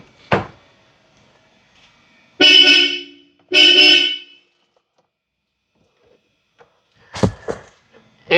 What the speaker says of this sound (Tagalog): Bosch Europa horn.